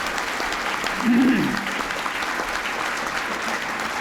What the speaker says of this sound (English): we need to applaud them and give them encouragement